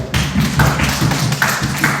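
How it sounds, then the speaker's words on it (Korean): A room of listeners claps together after a Bible story about the woman healed by touching Jesus' garment, a steady, close patter of many hands lasting about two seconds with no voices. "와, 박수 한번 칠까요?"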